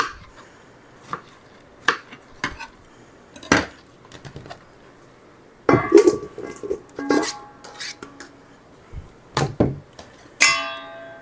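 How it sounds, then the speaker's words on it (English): A knife dicing fresh strawberries into chunks on a cutting board for jam, giving sharp, irregular taps and clacks in close succession, loud and near with no talking. "So literally all I'm doing is just dicing them into chunks"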